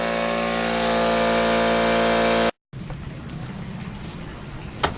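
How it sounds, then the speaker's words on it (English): A brand new air compressor runs loud and steady for spray painting red paint, cutting off abruptly halfway, then followed by a quieter, rougher stretch of noise. "this is the first time I'm going to get to use my brand new compressor"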